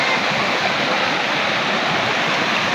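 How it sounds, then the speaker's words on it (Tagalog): A river rushes past in a steady, full roar of flowing water, close and constant with no pauses or voices. "Paganda namang pagmasdan ng ilog na to."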